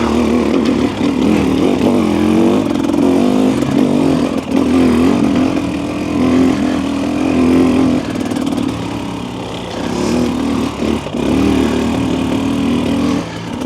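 A 2025 Husqvarna TE300 motorcycle ridden in third gear, its engine droning loudly and continuously at a steady low pitch with slight rises and dips in revs throughout.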